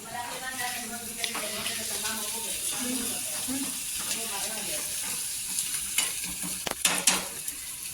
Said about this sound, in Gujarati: હું ભજીયાનું ખીરું કરું